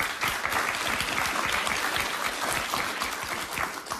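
Live Los Angeles studio audience at a televised talk show applauding steadily, a dense sustained wash of many hands clapping throughout with no break.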